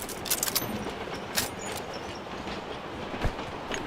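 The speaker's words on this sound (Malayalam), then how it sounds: "The train is now approaching." Train approaching in the BGMI battle royale game, a steady rumbling rail roar with faint clattering and a couple of brief metallic clanks, continuous and fairly quiet with no talk.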